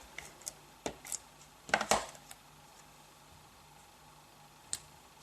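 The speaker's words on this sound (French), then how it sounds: "Je vais maintenant découper la photo avec la perfo" A craft paper punch cuts a photo for a round birth announcement card, heard as a few faint clicks and then a louder crunchy double clunk. A quiet stretch follows, ending with one last sharp click close by.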